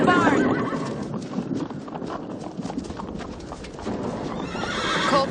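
Horses spooked by thunder neigh and whinny loudly as they break out of a corral, with hooves clattering throughout. The whinnies rise clearly at the start and again near the end, and voices talk over them.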